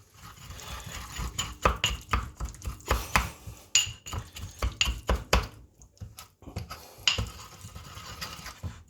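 A spoon works zorza and olive oil together in a dish, producing a series of irregular clinks and scrapes, some sharp and close, spread across several seconds with short pauses between strokes.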